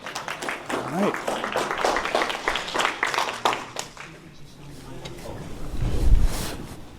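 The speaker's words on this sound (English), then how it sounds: "Let's go ahead and give Darrin a round of applause" An audience applauds to welcome a keynote speaker on financial security, a dense wash of clapping over the first few seconds that thins out, followed by low rumble and handling noise near the microphone.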